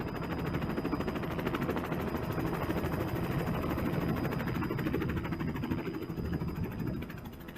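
A helicopter's rotor and engine make a loud, steady, close-up roar with a rapid chopping pulse that holds for several seconds before easing slightly at the end.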